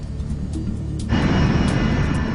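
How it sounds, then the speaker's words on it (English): A United States Air Force cargo jet comes in to land, its engine roar rising suddenly into a loud, broad, steady rumble. "a United States Air Force cargo plane is coming in for a landing"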